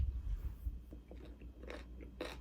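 Someone bites into a crunchy black tea canelé, producing a few crisp close-up crunches and chewing sounds with no talking.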